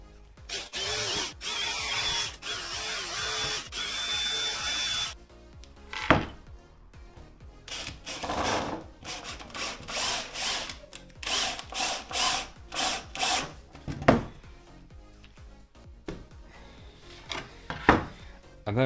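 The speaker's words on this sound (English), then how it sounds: "I'm going to screw through the back side to the front" Power drill driving screws through plywood from the back side while building a simple router table, with several bursts of whirring and ratcheting separated by pauses, close and fairly loud.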